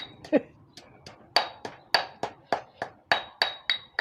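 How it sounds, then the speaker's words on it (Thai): Rhythmic, sharp pounding of a pestle in a stone mortar, about a dozen hard knocks in quick succession, close and loud. "เอ้ยเสียงครกดัง"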